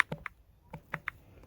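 A computer keyboard in a quiet room, keys tapped in a quick, uneven run of about seven sharp, close clicks while an address is typed into a Chrome browser bar, with no voice.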